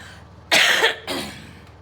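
Two quick coughs from one person close by, a strong first burst followed by a lighter second one, with quiet surroundings.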